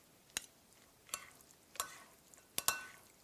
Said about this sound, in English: Just toss this with the warm pasta, and it's going to get lovely and melty.